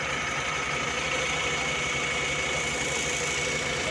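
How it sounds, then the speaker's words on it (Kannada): A motorcycle engine runs steadily nearby with a constant, rough droning rumble and no pauses. "ನಾನು ಬೈಕ್ ತೊಗೊಂಡು ಹೊರಟ"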